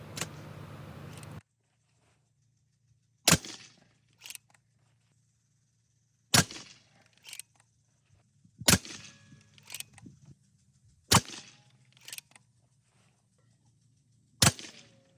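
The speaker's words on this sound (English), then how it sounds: "Let's just check out what 10 shots look like here over the Chrony." A custom Evanix REX-P 357 backpack airgun is fired over a chronograph. Six or seven sharp, loud reports ring out at irregular intervals of one to two seconds, each followed by brief mechanical clicks.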